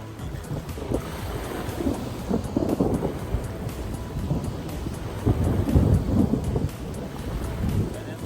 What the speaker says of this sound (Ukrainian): а потім тікаємо, бо починається дощ